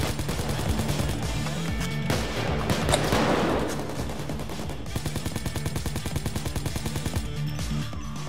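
Sustained gunfire from a heist shootout in PAYDAY 2, dense overlapping rapid shots and automatic bursts that run steadily throughout, loud and close.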